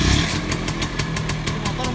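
A Vespa scooter engine idles close by with a fast, regular putter, steady throughout and fairly loud, with a louder rev at the very start.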